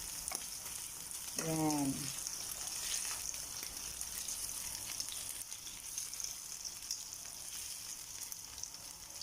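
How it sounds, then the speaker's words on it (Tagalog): Beef steak frying in a pan, a steady broadband sizzle running throughout at moderate level, with a brief spoken word near the start. "Kailangan medyo red yung pagka-fry ng steak."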